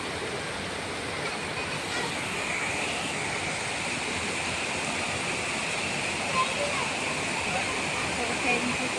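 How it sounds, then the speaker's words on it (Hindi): Heavy monsoon downpour keeps up a loud, steady hiss close by, dense and constant like rushing water, with only a couple of faint knocks within it. "कितनी तेज मुसलधार बारिश हो रही है।"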